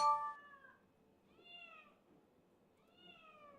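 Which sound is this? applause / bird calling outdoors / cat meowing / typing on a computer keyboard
cat meowing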